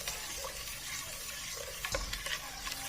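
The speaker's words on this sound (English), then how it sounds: "We have to beat it to this extent that there should be no trace of that the oil has been added to this mixture" Cake batter of wheat flour, dry fruit and refined oil beaten in a bowl for a Christmas cake, giving quiet rhythmic wet slapping and stirring strokes with a few light clicks against the bowl.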